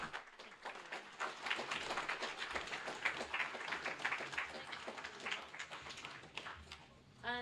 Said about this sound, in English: all that's left now is for us to give Chisola a massive round of applause